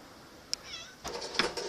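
A cat cries out in short, thin meows, a couple of brief calls close by with some faint rustling and knocking around them.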